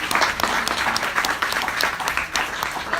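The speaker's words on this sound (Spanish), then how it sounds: "Otro aplauso, por favor, para ella." Steady audience applause fills a conference hall, dense clapping from many hands holding at an even level for a few seconds without a break.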